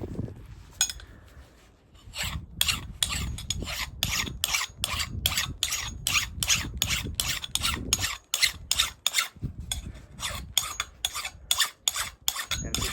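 A file rasps across the edge of a small hatchet in long, regular strokes, each a sharp grating burst, repeated steadily and up close with no talking.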